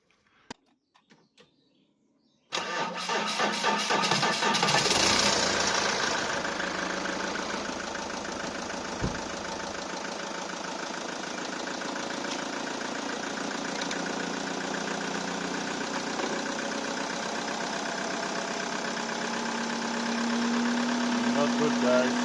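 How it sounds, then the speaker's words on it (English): After a few seconds of quiet clicks, a car engine with an alternator fault and an 11-volt battery turns over and settles into a steady, loud idle that continues with a low rumble throughout. "I reckon we can try and start the engine now."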